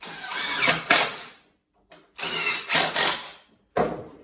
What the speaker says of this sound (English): by drilling the 5mm hole, the screw goes straight through the timber there